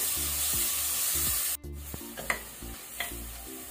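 Tomatoes fry over a medium-to-high flame in a pan, giving a steady soft sizzle with repeated scraping, stirring strokes and a few light utensil clicks, close and without talk.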